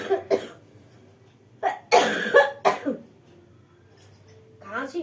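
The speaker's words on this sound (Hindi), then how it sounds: "खांसी बहुत भयंकर है" Several harsh coughs in quick bursts, close by, separated by short pauses, with a raspy breath or voice at the end.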